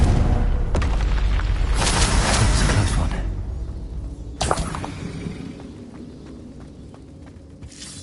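Bombarda and Confringo explosion spells in Hogwarts Legacy: a sharp crack, then a long roaring blast with debris, and a second sudden boom a little later that fades into scattered crackles and thuds.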